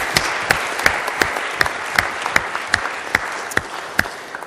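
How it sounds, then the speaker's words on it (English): A church congregation claps during a service, with about a dozen sharp hand-claps standing out at a steady pace over a dense wash of applause, fairly close and loud, with no talking. "I think you deserve another round of applause."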